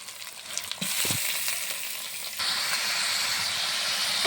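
Leg-piece meat dropped into hot oil, setting off a sudden loud hissing sizzle that rises sharply and holds steady and close, with no speech.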